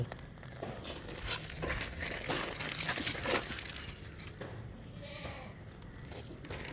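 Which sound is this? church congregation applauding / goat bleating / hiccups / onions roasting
goat bleating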